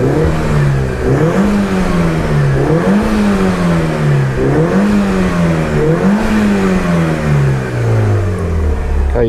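A 2004 Mitsubishi Lancer Evolution 8 MR at a Japanese car auction revs repeatedly, its engine note rising and falling in regular surges before settling lower, loud and close with no voices.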